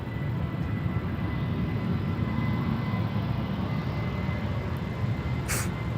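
A Transavia airliner on its takeoff run from the Polderbaan runway at Schiphol, a loud, steady, broadband jet roar held without pause, no voices.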